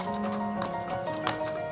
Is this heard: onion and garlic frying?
no